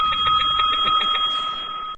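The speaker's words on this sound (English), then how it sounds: "That is the first bell I have ever gotten." A game show bell rings repeatedly in a fast, steady series of bright metallic strikes for over a second, loud and close, then trails off into a sustained ringing tone.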